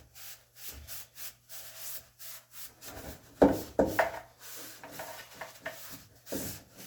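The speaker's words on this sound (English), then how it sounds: "Wipe it on, get it in all the nooks and crannies." Oil finish is wiped onto a wooden spice rack with a cloth, making repeated soft rubbing strokes close by that grow firmer and scratchier partway through, with no talk.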